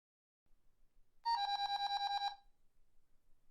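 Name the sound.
phone alarm alerting to movement at front door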